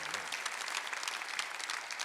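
Steady applause from a church congregation during a Sunday worship service, heard at a low level as a soft, continuous spatter of clapping for about two seconds.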